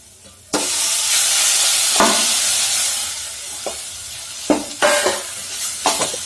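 Maggi noodles tossed into a hot pan set off a sudden loud sizzle that holds steady, then gradually fades as the noodles are mixed, with a few sharp scraping stirs toward the end.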